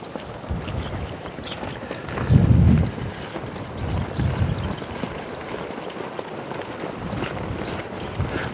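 Wind buffets the microphone on a windy day at an outdoor flag site, producing irregular low rumbling gusts with one strong blast midway, continuous and close.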